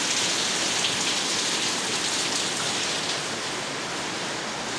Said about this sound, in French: Il pleut présentement.